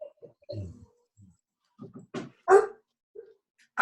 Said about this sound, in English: Oh, that's your dog?